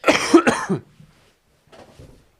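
A sharp, close cough during a podcast, a quick double burst, then a brief pause and a softer, quieter cough trailing off.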